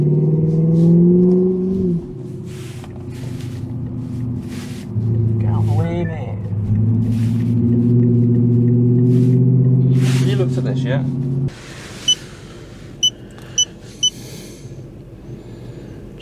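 A supercharged BMW 645Ci E63 engine revs hard several times, loud and rumbling up close, then settles into a lower idle, with a few sharp clicks near the end.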